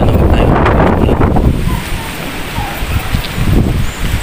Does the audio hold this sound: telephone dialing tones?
no